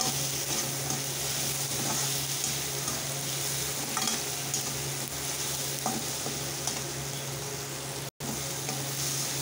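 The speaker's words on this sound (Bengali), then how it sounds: "দিয়ে দিচ্ছি 4টে শুকনো লঙ্কা, আর একটু ভেজে নেব।" Four dried red chillies fry in hot oil in a pan, a steady close sizzle that holds even throughout with occasional faint stirring.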